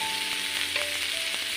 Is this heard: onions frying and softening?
yes